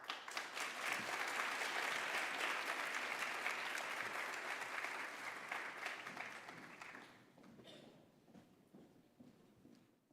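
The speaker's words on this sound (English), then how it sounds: "give Serena and Sanaya another round of applause" Audience applause at a medical diversity symposium: dense clapping that swells early, holds steady, then thins into scattered claps and fades out near the end.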